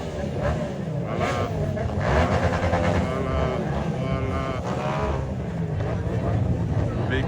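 Luxury cars including Ferraris and a Rolls-Royce roll past during a sports car rally in Douala, Cameroon, a steady loud engine rumble under an excited crowd and nearby chatter throughout.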